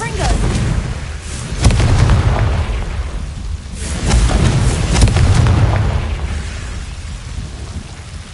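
Booming blasts of the Confringo fire spell in Hogwarts Legacy, with a couple of heavy thunderous explosions rolling over a rumbling, crackling bed, loud and sustained over several seconds.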